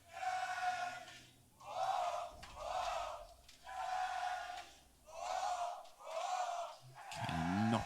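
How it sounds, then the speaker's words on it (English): An esports arena crowd at a CS:GO ESL Pro League grand final between G2 and Liquid chants in loud, rhythmic bursts, about six evenly spaced roars with brief dips between them. "the crowd are absolutely behind him right now."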